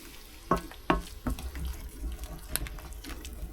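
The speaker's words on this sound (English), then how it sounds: "a little bit of water" Water splashes and trickles into a pan with a few sharp clinks and a soft sizzle underneath, close by, with no talking.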